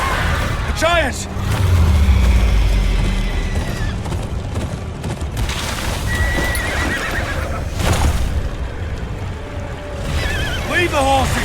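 Horses neigh and whinny loudly several times in the Game of Thrones Kingsroad video game, with clip-clopping hooves and rushing water from a river nearby, and voices shouting over the din.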